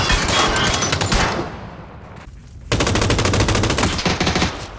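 Rapid bursts of automatic gunfire from the video game PUBG, loud and sustained, dropping briefly to a quieter gap before the firing resumes.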